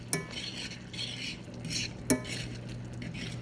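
A spoon stirring beans in a boiling pot makes two sharp metallic clinks against the side, with soft scraping and bubbling between them, close by and quiet.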